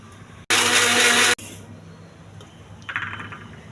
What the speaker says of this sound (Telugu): ఫస్ట్ ఇది మిక్సీ వేసుకోవాలి.